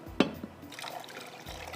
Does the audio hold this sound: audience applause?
no